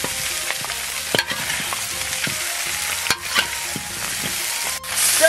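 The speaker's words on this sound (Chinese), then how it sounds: "继续翻炒，把香料的香味炒出来。" Sichuan peppercorns and dried chilies stir-fried in a wok, crackling sizzle broken by repeated sharp scrapes and clanks of the spatula, close and fairly loud.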